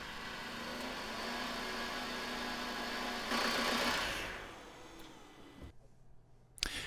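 A 2008 Renault Laguna III 2.0 dCi diesel engine idles with a constant low hum and rattle, then tapers off, leaving a quieter, fainter background near the end.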